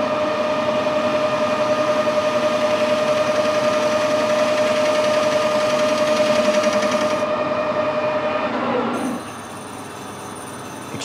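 A metal lathe takes a facing cut, giving a steady, loud mechanical drone with a constant tonal whine that drops to a quieter hum toward the end.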